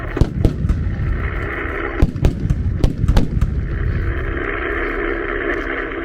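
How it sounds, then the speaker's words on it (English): Several sharp blasts and cracks from a stick grenade and battlefield effects at an outdoor WWII battle re-enactment at a 1940s weekend in Lytham, scattered over a steady background rumble. "The German was over there with a stick grenade, threw it in."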